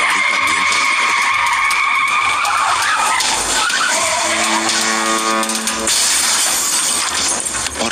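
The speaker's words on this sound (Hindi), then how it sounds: "अचानक उसकी गाड़ी का नियंत्रण बिगड़ गया" A car skidding out of control on a road in rain, with a loud sustained tire squeal and a sliding screech that shifts pitch midway and then ends in a harsher scrape.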